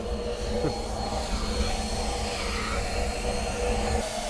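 A steam generator at about 150 degrees and roughly 4 bar pressure vents steam through its top relief valve, a loud, steady broadband hiss that runs without a break.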